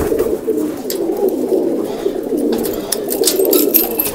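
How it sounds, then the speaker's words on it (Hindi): Close, continuous low cooing of pigeons, a soft repeated warble with faint rustling in the background. "ये तो कबूतर है।"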